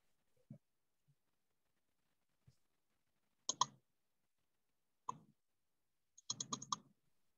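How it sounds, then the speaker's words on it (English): Sparse clicks and small clusters of key taps in near silence during an online English class, a few isolated presses followed by short rapid bursts of typing. "I hear typing and I'm waiting"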